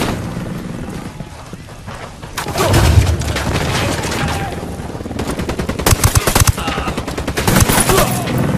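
Game gunfire from Ghost Recon Wildlands, loud rapid bursts of automatic fire with heavy booming impacts building after a quieter opening, dense and continuous through the second half, with shouted voices mixed in.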